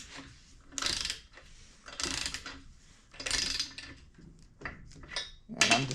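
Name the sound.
ratchet tightening head bolts crisscross on Kawasaki engine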